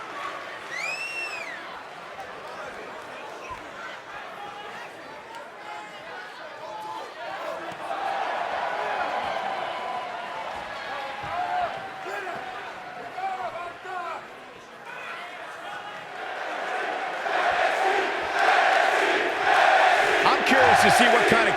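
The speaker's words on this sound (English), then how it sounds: "Listen to this crowd, guys. They're fired up for this one." A wrestling arena crowd in the WWE 2K20 video game roars and cheers continuously, swelling louder toward the end, with whistles and shouts mixed in beneath a commentator talking.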